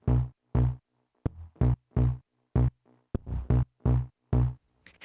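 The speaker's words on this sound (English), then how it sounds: "And so this bass guitar layer, if I solo this out, it sounds like this." Soloed deep house bass guitar layer triggered in Ableton, playing a rhythmic pattern of short, punchy, deep plucked notes with gaps between them, loud and dry with nothing else playing.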